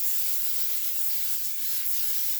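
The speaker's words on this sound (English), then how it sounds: "I'm going to use pan baking spray today." Pan baking spray hisses steadily from an aerosol can onto a cake pan, a continuous close, soft airy spray with no pauses and no voices.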